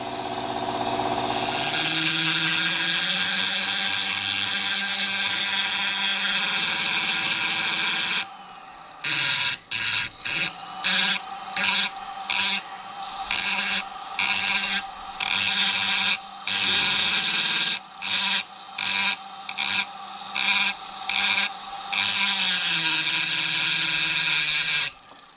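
A power sander whirs steadily, then runs in rapid on-off bursts as it works over a carved wooden fish, loud and close.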